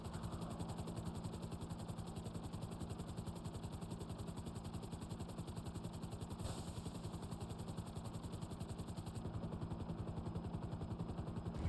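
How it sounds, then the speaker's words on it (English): A helicopter in the video game GTA Online flies and comes in to land, its rotor throbbing in a fast, continuous rhythm with a steady engine drone, loud and unbroken throughout with no voices over it. "just land the helicopter near the boats"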